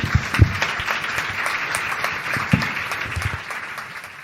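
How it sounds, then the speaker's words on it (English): A live audience claps in sustained, even applause for Bob Bauer and A.B. Culvahouse at a Lawfare event with the Brookings Institution, steady throughout with a few sharper claps standing out near the start. "join me in a round of applause for AB and Bob"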